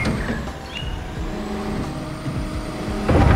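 Wheeled excavator driving in Construction Simulator, a rumbling diesel engine with hissing air-brake bursts and a rising surge near the end, close and steady, no talk.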